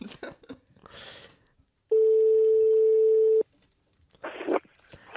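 A telephone ringing tone on an outgoing call placed during a live broadcast, one long steady ring burst of about one and a half seconds, with people talking before and after it.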